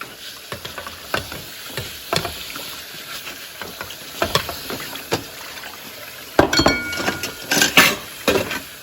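Water runs and splashes while dishes clatter and clink nearby, irregular bursts of scraping and rinsing, close up with no talking.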